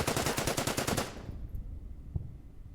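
Rapid machine-gun fire from a unit in the WW2 strategy game Order of Battle: WW2, during the Bataan battle: a loud, fast, evenly spaced burst lasting about a second, then cut off into near silence.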